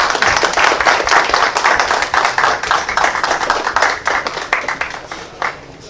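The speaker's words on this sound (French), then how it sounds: "donc encore une fois applaudis" An audience at a cultural night gives loud, rhythmic applause, with many hands clapping in quick, uneven bursts that thin out near the end.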